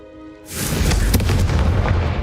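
The Confringo fire spell cast in Hogwarts Legacy, a sudden loud booming explosion that swells into a sustained, rumbling roar, heard without talk.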